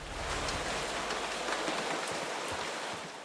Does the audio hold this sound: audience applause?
no